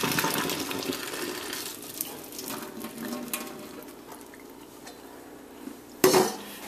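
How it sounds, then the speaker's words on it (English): Water splashes and trickles as a pot of boiled salted fish is tipped to drain, with metal pot clanks and a louder slosh near the end. "All I'm going to do now is drain it."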